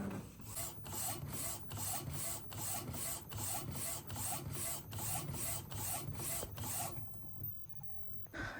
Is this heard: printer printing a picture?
yes